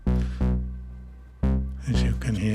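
A modular synthesizer plays a simple bass line: three deep, plucked notes with sharp attacks and slowly decaying tails, close and fairly loud, with nothing else over them.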